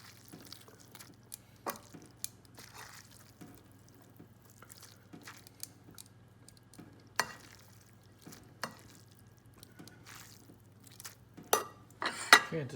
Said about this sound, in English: I'm going to go ahead and start tossing it to keep it from sticking together because it's fresh pasta